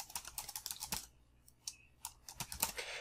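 Fingers tap out bursts of quick clicks on a computer keyboard at close range, with a brief pause in the middle before the clacking resumes.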